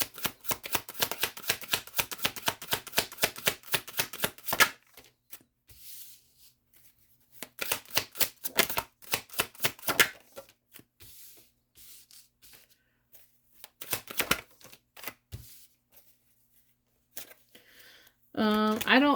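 Tarot cards being riffled and shuffled: a fast, papery flutter of rapid snaps for several seconds, then shorter bursts of shuffling separated by quiet gaps.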